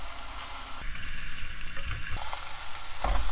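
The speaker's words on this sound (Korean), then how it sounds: "자글자글 저 양념을 하면서 국물이 나오면서 익어야 돼" A large conger eel cooks in a seasoning sauce as it grills, giving a loud close sizzle and bubbling with a few sharper crackles, steady across the short stretch with no voices.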